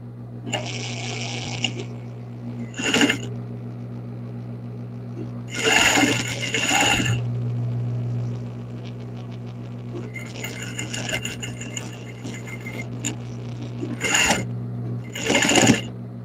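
A sewing machine slowly stitches another layer onto a 24 cm felt bunny, with a steady low motor hum broken by several short bursts of clattering needle noise.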